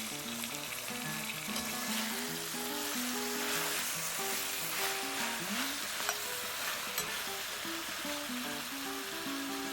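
Greens stir-fried in a hot pan give a continuous crackling sizzle with soft stirring scrapes, steady and moderately quiet, alone, while a faint melody hums in the background.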